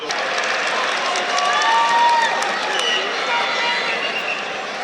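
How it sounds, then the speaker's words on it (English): A crowd cheering and clapping at a high school state wrestling final, a broad, loud roar of voices and applause that swells in the middle, with commentary over it. "the crowd is really getting into these matches"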